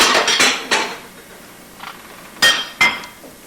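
A plate is picked up and handled in a kitchen during a chocolate sandwich demo, giving several close, sharp clinks and clatters of crockery, the loudest at the start and two more near the end.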